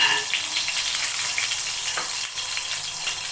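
A spoonful of ghee sizzles in a frying pan, a steady bright crackle close by with a brief louder burst, alone with no voices.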